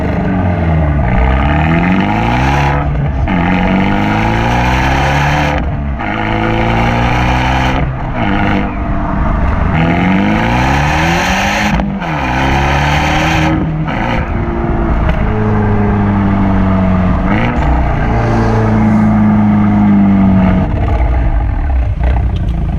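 An Abarth 124 Spider with the 1.4 engine and Monza exhaust revs hard and loud up close, its raspy note repeatedly climbing and dropping through gear changes for the whole stretch, with no talking.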